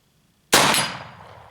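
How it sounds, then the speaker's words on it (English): A single pistol shot hitting a steel striker target through trees outdoors, one sharp, loud crack followed by a ringing metallic decay that fades over about a second. "you can see we're shooting at a striker through the trees"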